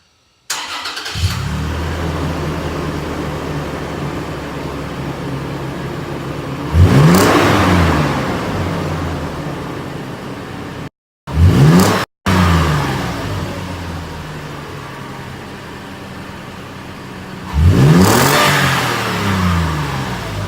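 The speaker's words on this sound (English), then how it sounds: "we're going to start this thing up, and we're going to let her buck here," A 2016 Toyota 4Runner with an MF 15145 cat-back exhaust starts up and idles with a deep, loud drone, then revs twice in strong rising surges, with a brief cut in the middle.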